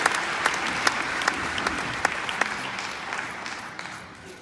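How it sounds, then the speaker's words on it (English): An audience at a live hairdressing show event claps for the cameraman, a dense burst of applause with a few sharp individual claps that slowly thins and fades. "Can you give an applause to the cameraman, please"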